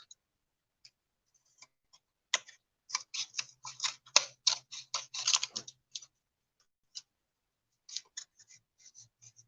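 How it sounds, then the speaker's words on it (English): Scissors cutting off the edges of paper, a close run of quick crisp snips in a dense burst, then a few scattered cuts after a pause, with no talking. "I'm gonna go ahead and cut off the edges."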